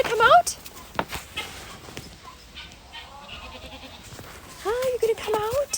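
Farm goats bleat and call in wavering cries, one loud near bleat opening and a run of repeated calls near the end, with fainter animal noise and shuffling in between.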